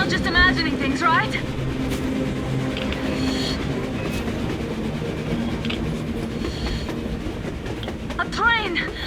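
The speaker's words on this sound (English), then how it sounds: "A train! A damn train on the surface!" A train rolls past in the Metro Exodus video game, a continuous low rumble with rattling carriages and metallic squeals near the start and end, heard under a voice speaking.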